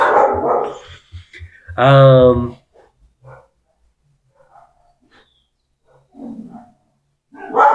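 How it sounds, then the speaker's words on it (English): Two short bursts of dog barking heard out on a street during a solo board game session, loud and close at first, then a fainter bark later, with people talking quietly in between. "Hey, who's this strange dog bark?"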